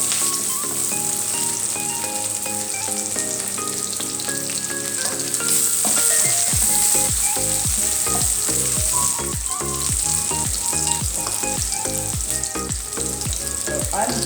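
Egg noodles stir-fried in a hot pan with cabbage, kale, bell pepper, cauliflower and prawns give a steady, loud sizzle, with repeated scraping and tossing strokes from about the midpoint onward, and no talking.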